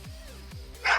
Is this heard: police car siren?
no